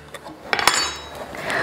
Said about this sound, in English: in our blender, we're gonna add our tomatoes